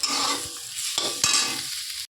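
Food fries in a pan in a home kitchen, giving a bright, steady sizzle with a couple of sharp stirring knocks before it fades out at the end.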